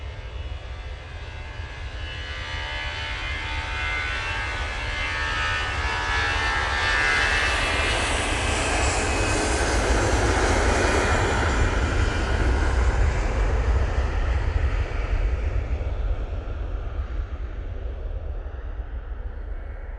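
A Gulf Air Boeing Dreamliner jet approaching to land at Manchester Airport, its broad engine roar swelling steadily to a loud peak mid-pass and then easing off slightly, continuous with no talk.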